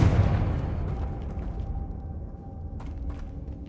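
A Confringo fire spell detonates in Hogwarts Legacy with a loud burst at the start, then a rumbling tail that slowly fades, with faint magical chimes near the end.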